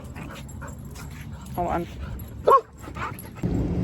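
Dogs at a dog park give brief yips and a short whimper amid a person's talking, the sharpest yelp standing out near the middle before steady background noise returns.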